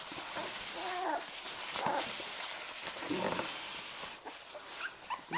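Newborn puppies whimper in a litter, giving high, thin whines and squeaks that overlap close by, over a steady background hiss.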